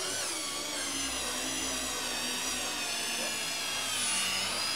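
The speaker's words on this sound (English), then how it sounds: "Put that in your drill driver." A cordless drill driver whirs steadily as it drives an eye lag screw, a continuous high-pitched motor whine held at an even level with a slight swell near the end.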